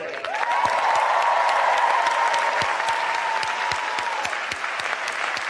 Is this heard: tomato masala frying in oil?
no